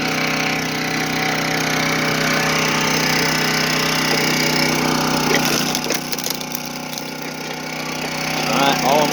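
A chainsaw cutting firewood runs steadily and loudly throughout, with a sustained engine drone and bursts of cutting noise near the end.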